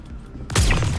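A sudden burst of gunfire in the video game Star Citizen erupts after a quieter moment, loud and close, with a short rapid volley that rings out briefly.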